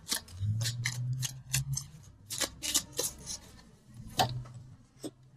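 Tarot cards shuffled and a single card drawn from the deck, a series of crisp, close papery snaps and flicks in an irregular rhythm with soft rustling between, heard alone.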